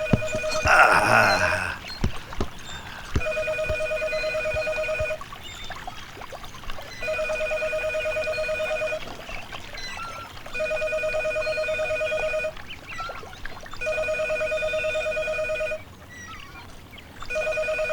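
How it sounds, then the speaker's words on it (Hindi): A telephone rings repeatedly in steady, evenly spaced bursts, moderately loud and alone, after a brief noisy rustle at the start. "फोन बजे जा रहा है, कोई उठा तक नहीं सकता।"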